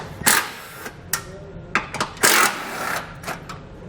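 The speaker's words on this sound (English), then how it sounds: "we're going to take out both the upper bolts with a 13mm socket" A ratchet with a 13mm socket clicks in short bursts as the subframe bolts come out of a 2019 GMC Acadia, the close metallic ticks separated by brief pauses.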